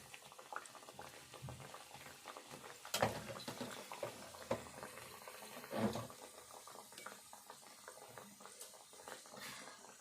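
A sweet folded puri fries in hot oil in a kadai, giving a soft, steady bubbling and sizzling with a few louder crackles, quiet and close, with no talk.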